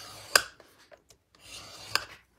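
Cardstock being scored for a card fold makes two short, sharp scraping strokes about a second and a half apart, close and quiet, with light rustling between them.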